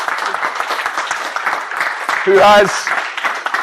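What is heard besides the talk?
audience applause for a speaker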